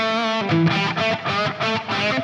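Electric guitar played through overdrive drive and reverb, a few sustained distorted chords ringing out with a lingering wash, loud and close with no talking.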